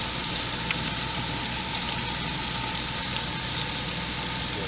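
A basket crowded with eggplant and squash slices bubbling in hot oil, giving a steady, even sizzle and hiss that runs unbroken and moderately loud, with no one speaking.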